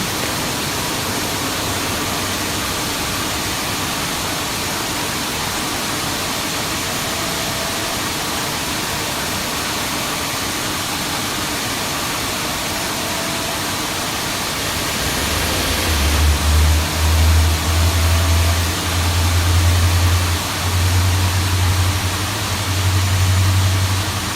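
An Airbus A350 jet engine spools up in a flight simulator, the broad steady roar of the aircraft swelling with a louder low-pitched drone toward the end.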